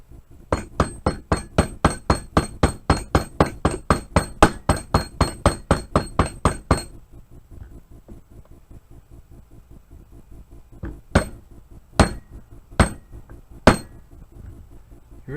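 Sharp metallic hammer taps drive a pin into an SKS rifle, a fast steady run of about twenty strikes, then a pause and four slower, separate hits.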